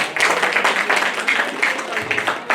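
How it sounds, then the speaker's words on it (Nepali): A church congregation at a Christmas celebration claps together in sustained, dense applause for a couple of seconds, with voices mixed into the crowd noise. "सबैजना ताली बजाइदिनुहोस् न।"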